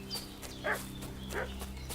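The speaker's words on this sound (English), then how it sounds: "What's that dog making such a fuss about?" A dog in a video game barks a few times, sharp separate yelps spaced about half a second apart, faint over a steady game background hum.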